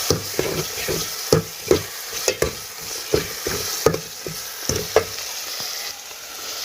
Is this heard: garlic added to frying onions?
yes